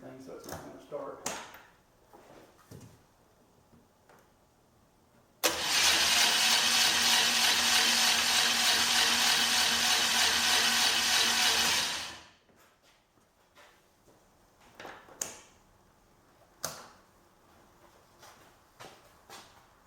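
A BMW engine fitted to a 1989 Hoverstar 2+2 hovercraft cranks with no spark plugs, belt turning: a loud, steady whirring roar for about seven seconds, then stops, with scattered clicks and knocks before and after.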